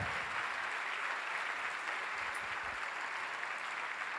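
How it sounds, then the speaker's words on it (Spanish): A church congregation breaks into applause of praise, a steady, uniform rush of many hands clapping at a moderate, even level throughout, with no voices over it. "¿Y por qué no le das un aplauso de gloria al Señor por su palabra?"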